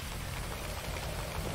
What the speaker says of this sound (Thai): ฝนมาเอ้ยฝนมาเอ้ย